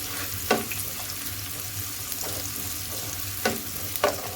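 Onions frying in butter in a pan give a steady sizzle, with a few sharper crackles and stirring scrapes rising above it, close and fairly quiet, with no voices.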